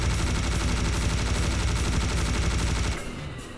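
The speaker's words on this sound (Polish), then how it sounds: "Ładnie wybuchnęli, nie ma co." Enemies blowing up in the shooter game Serious Sam: a dense, continuous roar of overlapping blasts and rapid gunfire, loud and sustained for about three seconds before it cuts away to quieter game ambience.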